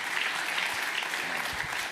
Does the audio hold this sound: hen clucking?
no